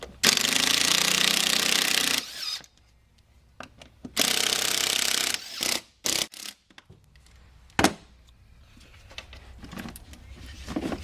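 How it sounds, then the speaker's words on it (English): A Makita power screwdriver backs screws out of the air filter housing on a full-size supercharged Range Rover, with loud whirring bursts of a few seconds each, then shorter clicks and brief spurts close by. "This is my little Makita power screwdriver. And essentially, you're just going to back those screws out."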